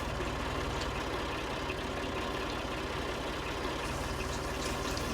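A 1966 Ford 4000 tractor left idling, a steady low diesel rumble that holds level and unbroken throughout with no voices over it.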